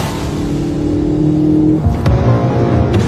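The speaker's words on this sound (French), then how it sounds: "il roule à plus de 130 km/h" A car driving at over 130 km/h through a tunnel, its engine a steady loud rumble that shifts in tone partway through, with a couple of brief bangs near the end.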